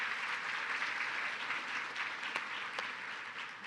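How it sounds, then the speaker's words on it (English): Steady audience applause fills a workforce commission forum hall, a continuous wash of many hands clapping at moderate level with a couple of sharper individual claps standing out, no voices. "let's give a round of applause to Ed Serna, our Executive Director for the agency."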